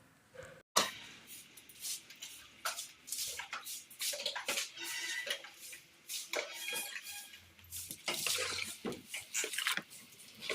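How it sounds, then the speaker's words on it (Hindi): Water splashed by hand from a bucket onto dusty ground at home, making a series of irregular wet splashes and patters, close but soft, repeated many times over several seconds. "तो 3-4 बार हमें यहाँ पर पानी छिड़कना पड़ता है।"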